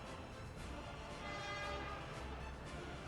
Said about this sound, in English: here's our little construction train doing its construction thing